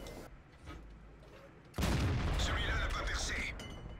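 A tank's main gun fires in World of Tanks, playing a Bat.-Chatillon 25t on the Fiery Salient map: a sudden loud blast at about two seconds that rumbles on, with quieter engine and battle noise beforehand.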